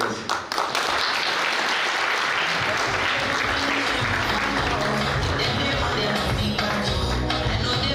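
An audience at a public lecture applauds in a dense, sustained wash of clapping that runs steadily and loudly throughout.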